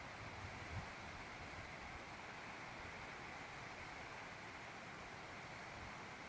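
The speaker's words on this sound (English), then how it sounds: "I don't know if you can hear the wind." Strong wind blowing steadily outdoors in Killarney, a constant broadband rush with no gusting breaks, loud and close to the microphone throughout.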